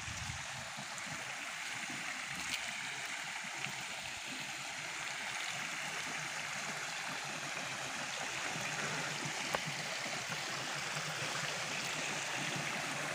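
A hill stream in the Konkan countryside runs steadily into a new village water pipeline, a continuous close rushing and trickling wash with no voices, holding an even level throughout.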